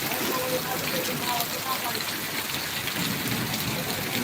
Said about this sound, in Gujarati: જોરદાર વરસાદ વરસી રહ્યો છે